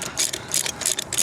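A half-inch ratchet clicks in quick bursts while car shocks are being fitted on a Corolla XRS, with a crisp, close metallic ratcheting repeated four times.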